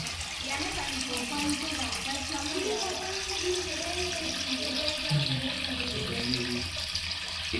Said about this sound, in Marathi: बोर चालू करून हौद भरण्याचा प्रयत्न करत आहोत